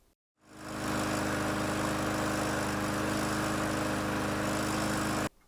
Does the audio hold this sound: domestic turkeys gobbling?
no